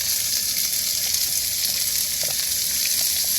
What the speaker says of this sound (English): get that frying away.